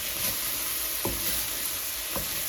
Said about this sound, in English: So the tomato and the okra are cooking together.